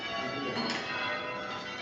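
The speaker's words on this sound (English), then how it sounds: "Here you can tell it is 12 o'clock and the bells are ringing of the church here." Church bells in Cremona ringing at noon, a continuous bright, resonant peal with overlapping tones, heard amid a busy indoor crowd murmur at an instrument fair.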